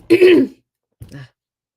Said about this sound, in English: My cough keeps kind of creeping up on me